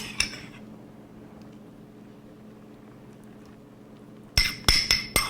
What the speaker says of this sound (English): give it a quick toss. And stir in our dressing.